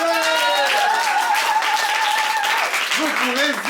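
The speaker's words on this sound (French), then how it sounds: "Vous pouvez applaudir tous les poètes qui sont passés." Applause from a crowd at a slam poetry tournament fills the moment, steady and fairly loud, while a voice speaks over it.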